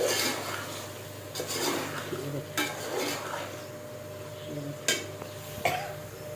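Mutton karahi gets stirred in a pan, with a spoon scraping and clinking against the metal in irregular strokes over a quiet, steady low sizzle and a background hum.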